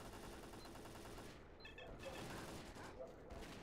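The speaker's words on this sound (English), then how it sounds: "There's somebody shooting at us." Gunfire crackles in S.T.A.L.K.E.R.: Call of Pripyat in the Zaton area as stalkers fight mutants: dense, continuous bursts of shots at fairly low volume, with talking mixed in.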